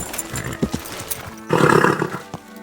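A horse in the video game Kingdom Come Deliverance II gives a brief loud snort or whinny burst, following scattered hoof and tack sounds, with a few soft thumps after it.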